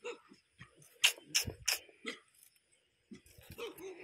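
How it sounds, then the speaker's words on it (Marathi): Several village dogs bark near a riverbank in sharp, loud, uneven bursts, some close together, with yips and whimpers between them and brief quiet gaps. "बघा, कुत्री अंगावरती येतात."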